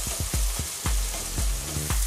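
Chilli powder, garam masala and ginger-garlic paste sauté with onions in hot oil, giving a dense, continuous close-up sizzle with rhythmic low scraping knocks as a spoon stirs the pan.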